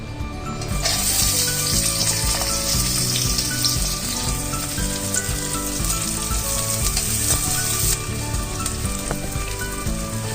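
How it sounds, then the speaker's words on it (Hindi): Onions dropped into about two tablespoons of hot oil give a loud, steady sizzle that carries on throughout, with background music underneath and no speech. "देखिए हमारा ऑयल हो चुका है। अब हम डालते हैं इसमें प्याज।"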